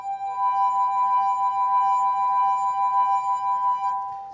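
A glass vibrated by hand and played fast, ringing in one steady, loud tone with a clear wavering vibrato, sustained alone for about four seconds before fading.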